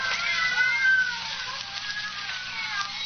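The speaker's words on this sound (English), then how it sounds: "some fiend, knowing her deadly fear of cats, has locked her in here with half a dozen of them" Several cats meow and yowl together in a 1946 Sherlock Holmes radio drama sound effect, a continuous layered wailing chorus with a bandlimited, old-broadcast tone.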